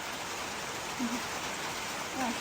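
Rain falling at night as a dense, even wash of hiss that holds steady throughout, with faint low murmurs rising briefly in the background.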